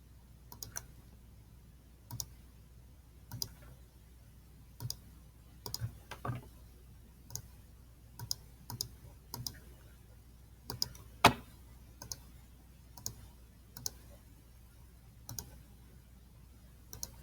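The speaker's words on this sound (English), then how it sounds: "I'm just clicking each time I want it to change" Computer mouse clicks sound one at a time as a polygonal lasso tool traces a figure, faint, close and sparse, spaced irregularly about a second or two apart over a quiet background.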